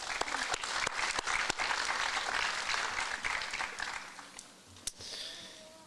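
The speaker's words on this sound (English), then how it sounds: "Let's give them a nice round of applause." A pageant audience applauds steadily, dense clapping that swells and then fades, with a few sharp louder claps standing out near the end.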